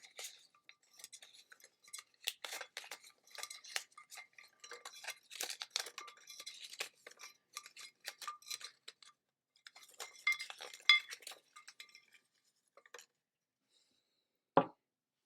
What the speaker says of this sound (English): I wrote them all down on slips of paper and put them in this little tin